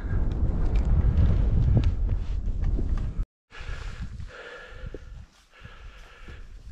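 Damp, foggy wind gusting across an exposed mountain slope at about 750 metres, a steady broadband rush buffeting the microphone, briefly cutting out and then returning softer with faint rustling.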